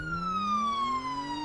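An ambulance siren in the game Garry's Mod wails continuously, its pitch sliding slowly down over a faint low rumble, clear and alone without talk.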